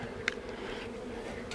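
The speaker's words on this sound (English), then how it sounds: "we can sit back and enjoy the bees in our Pagmr colonies" Bees hum steadily around freshly installed package colonies at the hive, a faint, continuous low buzz with a brief brighter blip early on.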